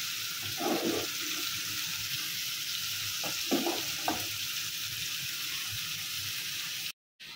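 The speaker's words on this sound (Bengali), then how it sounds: "এটা আস্তে আস্তে লাল লাল করে বাইজা নিব চিংড়ি মাছটা" Shrimp fry slowly in a pan, a continuous broadband sizzle with a few low bubbling bursts and stirring sounds, ending in a brief cut to silence near the end.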